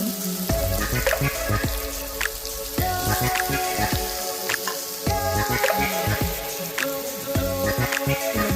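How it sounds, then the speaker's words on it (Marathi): Ground masala roasting in a pan for a vegetable curry, a loud, steady sizzle with crackling pops and occasional stirring, nothing spoken. "आपला मसाला तयार झाला छान भाजायचं आहे"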